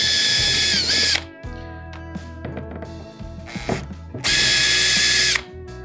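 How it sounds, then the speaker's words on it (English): A power drill whirs loudly in two bursts, backing screws out of the steering drum cover on a Hobie Pro Angler kayak, with quieter clicks and handling of parts between them. "So just back these screws out."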